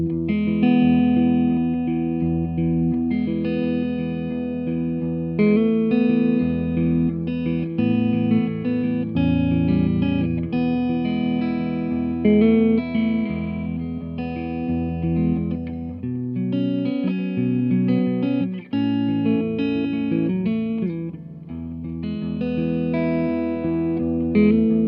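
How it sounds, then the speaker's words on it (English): Electric guitar played through a Strymon BigSky pedal set to Bloom reverb at about half decay length, sustained chords swelling into a thick, lingering wash of ambience with no talking. "The bloom reverb literally works as it's described."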